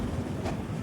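Train decelerating as it nears a station in the evening, a steady low rumble with wind-like rushing noise heard from inside the carriage, continuous and fairly loud throughout.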